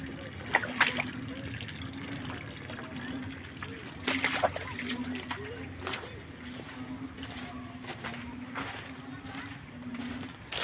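Irrigation water flows strongly into a rice field in a continuous rushing, trickling wash, with occasional louder splashes and a faint voice in the background.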